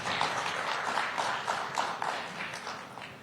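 Audience applause at the India Today Conclave 2025 greeting Amruta Fadnavis, moderate and somewhat distant, with individual claps picking out through a steady crowd wash.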